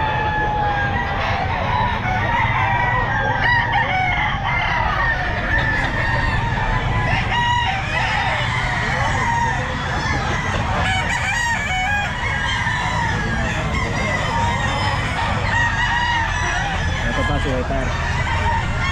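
Roosters crow repeatedly at a busy Sunday pet market in Grotto, their calls rising over a dense, constant crowd murmur and market bustle, with voices talking throughout.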